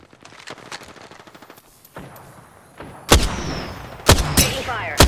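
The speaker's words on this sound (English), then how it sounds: "Taking fire!" Gunfire in the video game Apex Legends: light scattered shots early, then loud, sharp bursts of automatic fire in clustered volleys, close and dominant.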